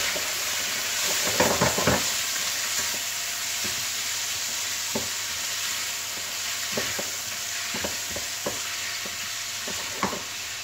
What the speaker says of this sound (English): Cook the bacon first.